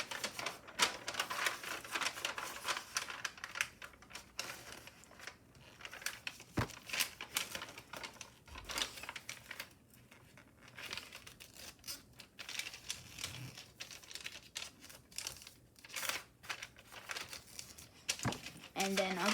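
Foil paper crinkles and crackles as it is folded diagonally for an origami aircraft carrier, with dense close rustling and sharp creasing snaps throughout, under intermittent talking.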